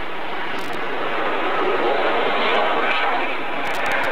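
A fixed-wing aircraft performing a negative turn at an airshow in Sion, 1997, its engine roaring loud and steady throughout as it sweeps past, with a brief ticking rattle near the end.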